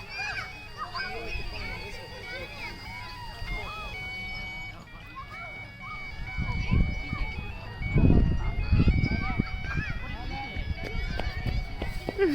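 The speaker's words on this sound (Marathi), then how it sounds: "इथे आईस्क्रीम ट्रक आलाय पार्क मध्ये" An ice cream truck pulls into a park in America, its tinkling jingle melody playing continuously, while children run and shout nearby and the rumble of footsteps and play grows louder in the second half.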